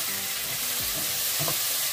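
Curry sautéing in a pan with salt being stirred in, a dense continuous hiss and crackle of frying with soft scraping of a spoon underneath, close and steady, no voices.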